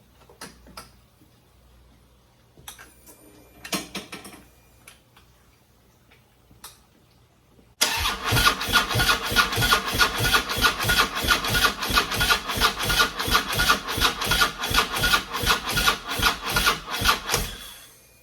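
A motorcycle with a low battery cranks in a workshop: after some quiet clicks and handling noises, a loud, steady, rapid chugging starter rhythm runs for about ten seconds without catching, then stops.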